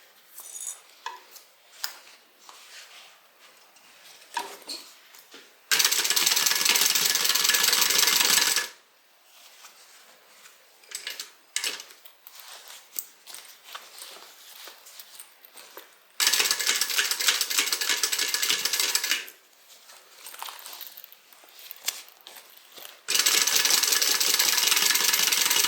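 A sewing machine stitches across a bag in three loud, steady whirring bursts of several seconds each, separated by quieter handling clicks and rustles of fabric.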